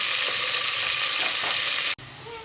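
Onions frying in a pan and being stirred until deep brown, a loud, steady hissing sizzle heard close, briefly cut off near the end before resuming more quietly.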